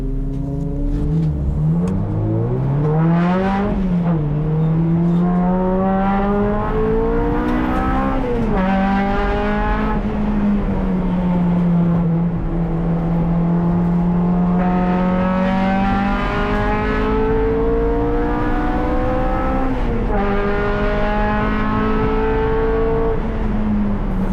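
Race car engine on a track during an out lap, loud and continuous, rising and falling through gear changes with repeated accelerations and brief lifts, close and sustained with no talk.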